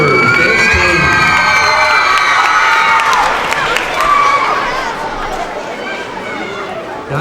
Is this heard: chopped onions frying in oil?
no